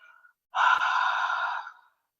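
A single long, breathy exhale pushed through a narrowed throat, a hoarse ocean-like rasp lasting over a second, close and fairly loud.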